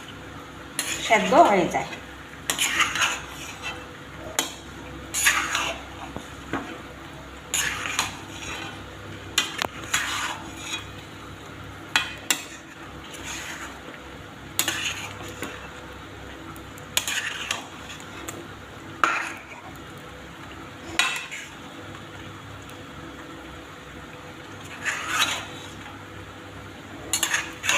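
Chicken for a roast is stirred and turned with spices in a pan, giving repeated scraping and clanking of a utensil against the pan over a soft sizzle, with a voice speaking briefly.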